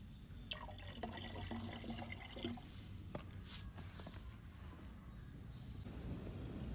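Water sloshes and drips inside a sprayer pump as neem oil is mixed in, with gentle liquid pouring and trickling sounds throughout and no talking.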